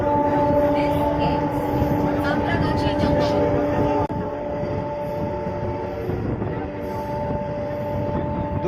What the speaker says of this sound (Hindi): हमारी लोकल संतरागाछी स्टेशन से छोड़ चुकी है अगले स्टेशन के